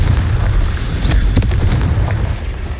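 A Confringo fire spell explodes in the Hogwarts Legacy video game, a loud booming blast with a rumbling low body and crackling bursts that slowly fade.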